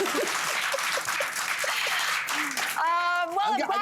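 A studio audience at a talk show applauds in a dense, steady wash of clapping, with a voice cutting in near the end.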